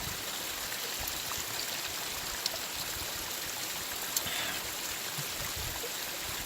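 Water at a natural hot spring trickles and burbles steadily, with a soft continuous hiss of flowing water and a few faint drips, close by and with no voices.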